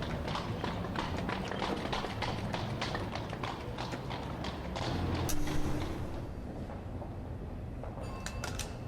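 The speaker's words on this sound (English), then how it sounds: "Horses everywhere." Horses' hooves clip-clop steadily in The 39 Steps PC game, a busy continuous patter of several animals at mid distance, briefly swelling louder midway with some thuds, no talking.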